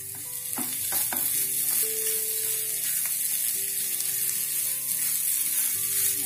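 Veg seekh kabab mixture is pressed and fried in a pan, with a loud, continuous sizzle and several spatula knocks and scrapes early on, then steady frying alone.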